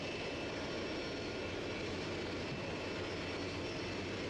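Four jet engines on a large airliner running at idle on the ground, a steady, loud, broad roar with a high whine on top, holding level throughout with no voices.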